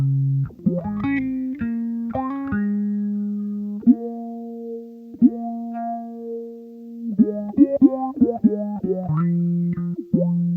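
Bass notes run through a Soundblox Bass Envelope Filter, each pluck sweeping with a vocal, wah-like quack. Single notes and quick runs are separated by sustained tones and short pauses, and no other sound is present.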